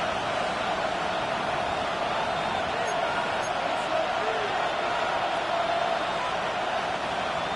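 A stadium crowd at a football game roars steadily and continuously as a third-down play approaches, a dense, even wash of cheering from many voices.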